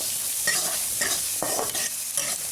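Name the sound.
peas frying in a pan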